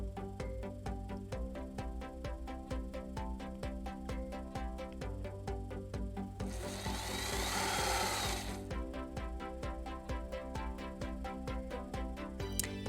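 A sewing machine stitches the side seam of a felt doll dress, its rapid steady needle clatter running close and continuous, with a brief louder whirring burst near the middle before the even stitching rhythm returns.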